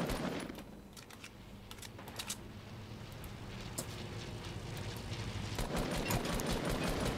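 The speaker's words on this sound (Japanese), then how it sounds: "銃声じゃん。" Rapid bursts of gunfire in a Fortnite Team Rumble match ring out as dense, overlapping volleys over a constant noisy game backdrop throughout.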